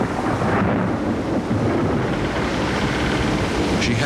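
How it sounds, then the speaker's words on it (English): A storm with gale-force winds and 25-foot seas on one of the Great Lakes, a loud, continuous roar of wind and deep rumbling that stays steady throughout with no voices. "25-foot seas and gale-force winds hammered at the Edmund Fitzgerald as she plunged"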